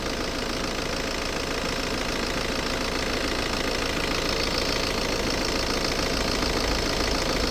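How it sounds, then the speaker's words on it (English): Toyota Avensis diesel engine idling during diesel particulate filter cleaning, a steady close rumble with constant knocking clatter and no pauses or talk. "always do it with the engine running."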